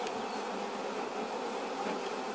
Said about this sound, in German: Sind immer ganz interessiert hier, die Bienen.